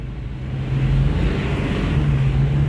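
A car engine is revved during throttle testing while a fault is diagnosed on a Ford, a low steady drone that swells after a moment and holds at higher revs, heard close with no talk.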